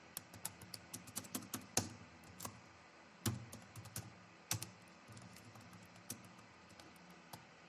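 Clicks come from a computer keyboard typed quietly at close range, with quick clusters of keystrokes, short pauses and a few sharper isolated presses.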